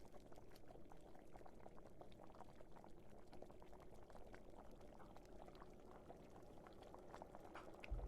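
Boiling water bubbling in the video game The Sand Man, a faint, steady simmering gurgle that runs unbroken for several seconds with no one talking.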